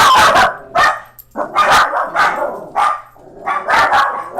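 A dog barks repeatedly in loud, close bursts of about five or six barks with short pauses between, some sounding a little whiny.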